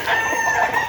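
A gamefowl rooster crows at close range in one loud, sustained call on a farm, with no other sounds.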